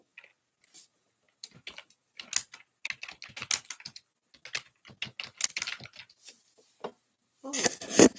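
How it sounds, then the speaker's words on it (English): Computer keyboard keys clatter in irregular bursts of close, crisp clicks with pauses between, ending in a fast flurry of typing. "Oh, and look, I started typing, and it came back."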